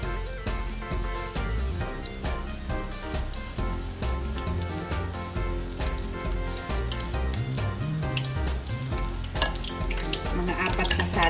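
Tortang dilis, an anchovy fritter, frying in a hot pan, a constant close sizzle with occasional stirring clinks, heard beneath steady background music.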